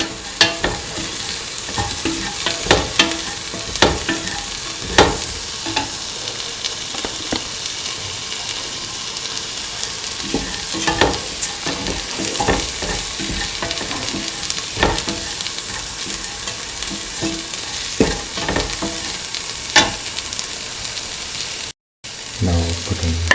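Spices are stirred into a sizzling mixture for an ivy gourd, green pea and coconut milk stew, with steady loud frying and repeated spoon scrapes and knocks against the pan throughout.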